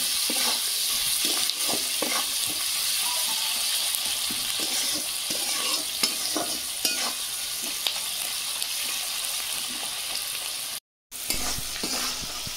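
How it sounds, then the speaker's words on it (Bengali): Salted onions fry in a pan, a continuous soft sizzle broken by repeated scraping and stirring strokes of a utensil, close and moderately quiet with no talk, plus a brief dropout near the end. "পেঁয়াজ ভাজা হয়ে গেছে"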